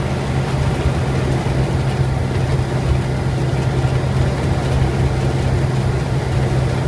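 Steady drone of a Robin DR400 light aircraft's 160 hp piston engine heard from inside the cockpit, holding an even, constant tone while power is eased back on approach, with no voices over it.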